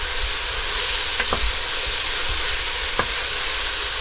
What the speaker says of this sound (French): Donc on va ouvrir pour remuer un peu.